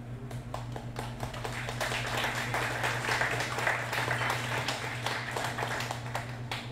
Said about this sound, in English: I like the applause after every poem.